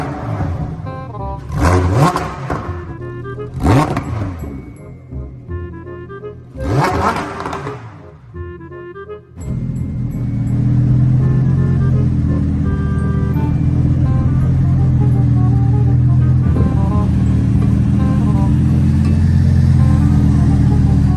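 A toy Lamborghini gives off a loud electronic engine sound, with a few revving bursts that rise in pitch, then a sustained, steady roar that fills the second half.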